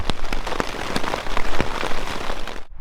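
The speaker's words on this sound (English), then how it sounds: "It's still trying to hail or rain" Rain patters steadily on a surface during a backpacking trip in the Rocky Mountains, a dense close hiss of drops with scattered sharper taps, cutting off abruptly at the end.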